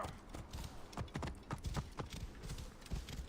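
A horse's hooves clip-clop steadily in the Assassin's Creed Origins video game, a continuous run of close, even hoof beats on hard ground with no talking over them.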